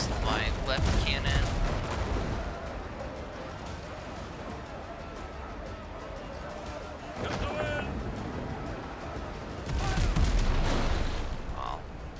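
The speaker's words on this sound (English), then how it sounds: "let's try to turn to the side here. Use my left cannon." Ship cannons firing in the sailing video game Windrose: repeated heavy booming volleys, loud and rumbling, over continuous sea and battle noise.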